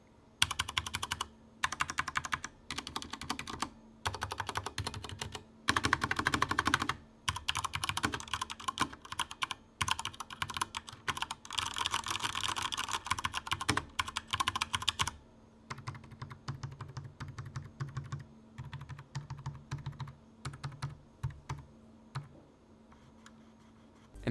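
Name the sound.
typing on Corsair K70 TKL keyboard, Cherry Speed Silver switches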